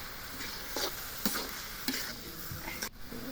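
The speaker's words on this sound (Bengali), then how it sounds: "হলুদ মরিচ দিয়ে একটু নেড়ে চেড়ে নিচ্ছে।" Vegetables seasoned with turmeric and chili being stirred in a pan, a steady sizzle with soft scraping strokes at intervals and one sharper knock near the end.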